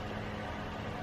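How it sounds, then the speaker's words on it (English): A kitchen fan inside a van runs steadily, giving a close, even broadband whoosh with no other sounds. "You probably can hear the fan going on right now."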